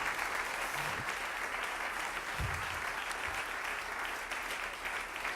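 A church congregation applauds in a steady, dense wash of clapping that holds evenly from start to finish, fairly distant and without voices.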